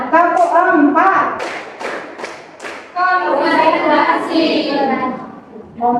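A school class claps out a counted rhythmic pattern in unison at SMAN 9 Purworejo, sharp sets of hand claps woven between a teacher's and pupils' loud chanted speech.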